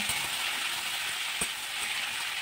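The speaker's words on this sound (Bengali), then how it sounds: "এরকম করে আমি ভাজতে থাকবো।" Chopped vegetables frying and being stirred in a pan for a Bengali chorchori, a constant close sizzle with a few soft knocks from the spoon and no talk.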